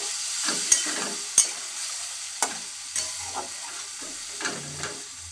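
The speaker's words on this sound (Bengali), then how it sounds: "এবার এই মশলাগুলো ভালো করে কষিয়ে নেব" A ground paste of cashew, poppy seed and melon seed frying in a pan for a paneer curry, a soft steady sizzle broken by several sharp scraping and tapping strokes of a stirring spoon.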